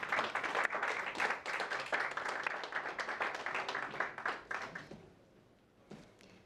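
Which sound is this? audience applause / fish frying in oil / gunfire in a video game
audience applause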